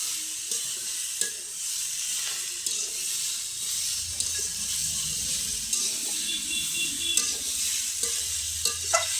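Mixed vegetables and spinach frying in a wok, with a constant bright sizzle punctuated by scraping stirs and occasional clinks of a spatula against the pan, close and continuous.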